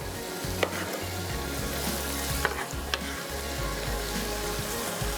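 Masala for beef tikka boti rice fries in a pan with a continuous close sizzle, a low steady hum beneath and a few sharp scrapes of a stirring utensil, with no talking.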